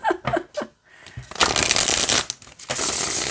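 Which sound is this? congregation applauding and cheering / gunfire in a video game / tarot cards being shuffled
tarot cards being shuffled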